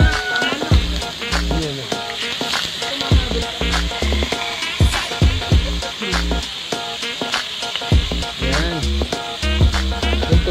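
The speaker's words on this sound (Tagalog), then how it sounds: "Ang pagluluto ng pusit" Squid fries in a hot pan with a loud, dense sizzle and crackle, punctuated by repeated stirring clanks and scrapes against the pan, close and continuous without talk.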